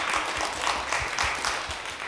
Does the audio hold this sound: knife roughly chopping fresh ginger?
no